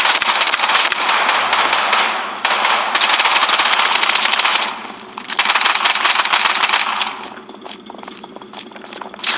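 Rapid, dense bursts of automatic gunfire in the video game Blood Strike, loud and crackling in long strings with brief pauses, while a game voice calls out over them.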